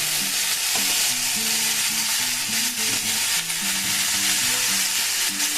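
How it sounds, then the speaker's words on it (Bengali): Mixed vegetables with salt and turmeric sizzle steadily in a hot pan, with a constant close frying hiss and some stirring, while faint music plays underneath. "সবজিগুলো ভাজার সাথে সাথে সেদ্ধও হয়ে যাবে"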